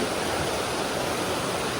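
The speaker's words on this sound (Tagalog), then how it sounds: "Ito yung ilog po. Ilog po yan. Tawid kami ng ilog." River water rushing during a river crossing in the wild, a loud, dense, continuous broadband flow filling the whole moment with no voices.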